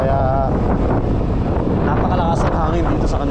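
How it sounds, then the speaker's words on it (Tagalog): Strong wind buffets the microphone during a Vespa scooter ride in hilly, high-lying Tayabas, making a loud continuous roar while someone talks over it. "napakalakas ang hangin dito sa kanila"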